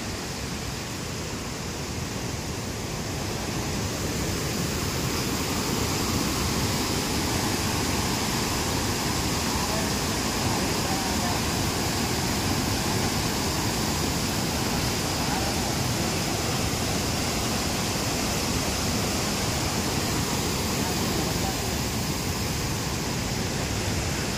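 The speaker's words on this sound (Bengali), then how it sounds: "এই বর্ষায় জোনা ফলসের সেই অপরূপ সৌন্দর্য, ভীষণ ভীষণ গতি, ভীষণ জোরে আওয়াজ" Jonha Falls in monsoon roars with a dense, loud, unbroken rush of heavily falling water heard close up, a steady broadband wash throughout.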